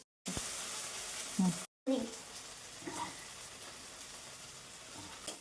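Okra bhindi fry with tomato and chili powder is stirred in a home kitchen pan, producing a soft sizzle and scraping strokes that are faint and broken by two brief silent gaps.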